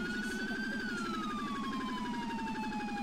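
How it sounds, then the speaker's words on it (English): Police sirens wail continuously in the Arma 3 video game, a loud, steady rising-and-falling electronic tone that fills the whole stretch without pause. "God, these sirens, I can't even hear the radio"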